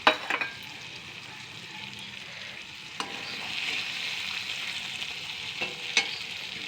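Puti fish tel jhal curry sizzles in oil as slit green chillies are added, a soft, steady frying crackle broken by a few sharp taps and scrapes of stirring, close and quiet.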